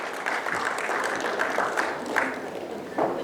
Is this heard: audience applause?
yes